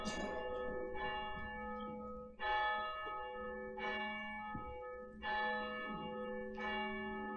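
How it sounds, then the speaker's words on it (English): A church bell rings before a Sunday Advent service, sounding alone in five or six evenly spaced, resonant strikes, each with a long humming decay that overlaps the next. "As our bell rings."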